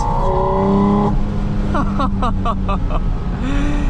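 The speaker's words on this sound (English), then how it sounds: "It sounds like the engine is inside of your eardrums." A 2025 Porsche Spyder RS engine revs hard several times in quick bursts, loud and close, with a steady drone underneath between the throttle blips.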